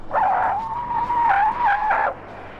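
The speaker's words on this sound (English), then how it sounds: "Just listen to a full panic stop from 50 miles an hour." A loud, sustained tire screech from a 1971 Holden car in a panic stop from 50 mph, lasting about two seconds, wavering slightly in pitch before cutting off abruptly, heard up close.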